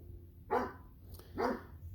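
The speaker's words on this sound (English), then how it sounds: "Sorry about my dog." A dog barks twice at a homestead garden, with spaced, moderately distant woofs over faint outdoor background hum.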